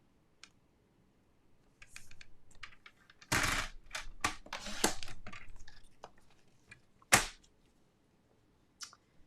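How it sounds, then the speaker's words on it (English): Vellum paper being trimmed on a paper trimmer for a handmade card: scattered clicks and taps, then a loud sliding cut and crisp snaps, with a few quieter ticks, close and without speech. "They're going to trim down the vellum."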